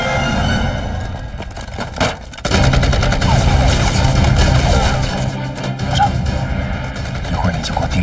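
Machine gun fire rattles in a war drama battle against Japanese troops near a truck, loud sustained bursts with a brief gap, then continuous heavy firing mixed with other gunshots.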